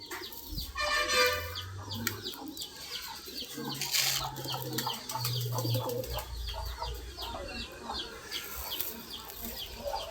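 Ordinary pigeons coo with low, soft, repeated calls close by, while other birds chirp and cluck in the background. Grain is scattered on the ground.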